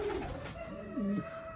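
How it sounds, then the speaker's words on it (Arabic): Pigeons in a cage cooing, two soft low coos close by with no talk over them. "هي الطيور بس لساتها تعبانة من السفر"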